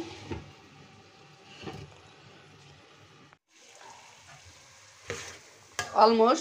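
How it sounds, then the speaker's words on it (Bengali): Potatoes, bean seeds and tomatoes are sautéed in a pan for an egg curry, giving a steady low sizzle with stirring scrapes and a louder burst of frying near the end; a voice speaks briefly. "আলু, শিমদানা, টমেটো কষিয়ে নিলাম, একটু ভালোভাবে কষিয়ে নিলাম।"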